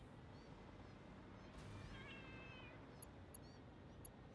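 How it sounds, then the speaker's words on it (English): Several faint kitten meows rise in short thin calls against a dark, steady ambient hum, somewhat distant and soft. "I hear all kinds of kittens meowing."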